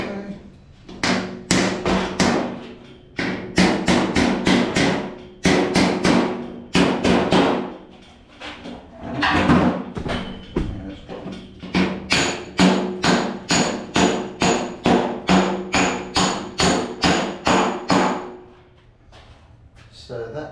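A hammer strikes metal against a dolly while a dented, heavily drilled XK fender is repaired, ringing out in loud, close, rapid bursts of sharp metallic blows separated by brief pauses.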